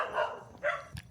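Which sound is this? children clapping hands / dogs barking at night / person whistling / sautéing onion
dogs barking at night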